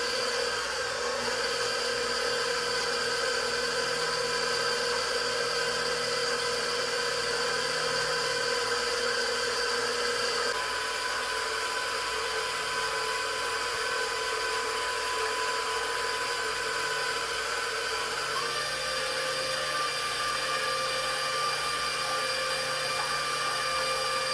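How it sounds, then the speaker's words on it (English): An electric stand mixer runs on low speed, blending cookie ingredients with eggs, a steady close whirring hum that holds continuously with a slight shift in pitch partway through. "And this is our mixer. So we just dump them in there. And turn it on low just to mix them."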